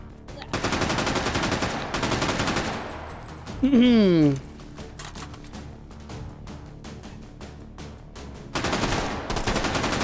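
Video game gunfire comes in loud bursts of rapid automatic shots, cut by pauses, with a descending electronic tone partway through.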